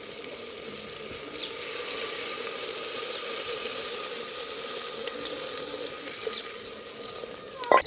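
Water streams steadily from a tap into a cooking pot during pickle preparation, a soft continuous splashing rush with a faint clink near the end, no voices.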